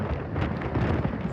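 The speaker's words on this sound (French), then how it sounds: "Il y a un vent de dingo." Strong wind on a coast near small islands in Japan buffets loudly in low, rumbling gusts, roaring without pause.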